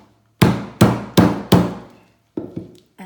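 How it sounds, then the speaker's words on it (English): A heavy knife sharpener strikes lemongrass stalks on a cutting board: four loud, evenly spaced thuds, a pause, then two lighter taps, with no talking. "Now you want to smash this, so you need something that's quite heavy."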